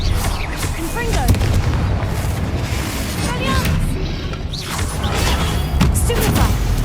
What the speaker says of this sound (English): Stupefy! Confringo!